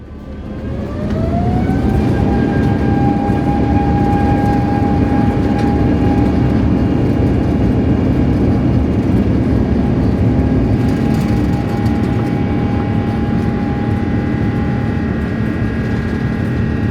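A Turkish Airlines airliner on the runway before takeoff, heard from inside the cabin: engine whine climbs in pitch then settles into a loud steady roar with a low rumble.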